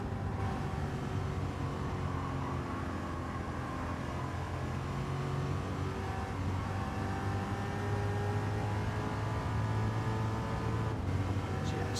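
A 1960s race car from Gran Turismo 7 at a Goodwood Revival night event, its engine droning loud and steady as revs rise and fall through the gears.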